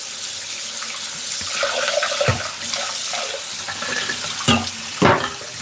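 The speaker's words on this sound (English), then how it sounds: "I'm just, rather than use another pot, I'm just rinsing this and show you what you can do." Pot being rinsed under a running kitchen tap, a steady close splashing water stream with clanks and knocks of the pot against the sink, loudest near the end.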